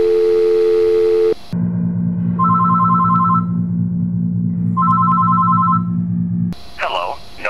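A telephone ringing during a call, with repeated electronic double tones in two bursts over a steady dial-like hum. Sharp cuts at the start and end carry other sounds, including a voice.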